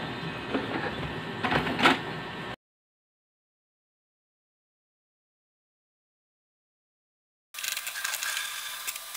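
HP Ink Tank 315 inkjet printer printing a print head alignment page, faint mechanical whirring and carriage clatter for a couple of seconds, then silence, then the mechanism resumes near the end.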